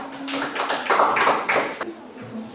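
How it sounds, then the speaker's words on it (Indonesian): A class of students clapping for a student group after its presentation, a short burst of close hand claps lasting about two seconds, with a voice mixed in. "tepuk tangan dulu untuk kelompok visual"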